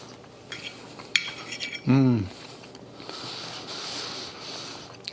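Fork and cutlery clinking against a plate of garlic butter prawn fettuccine Alfredo, a few sharp taps and a brief scrape, close and fairly quiet with light background noise.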